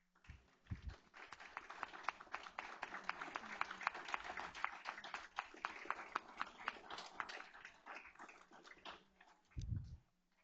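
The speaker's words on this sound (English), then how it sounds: "could you please stand so that we can give you a round of applause" A board meeting audience claps for several seconds, a dense patter of hands that swells and then tapers off, fairly quiet overall.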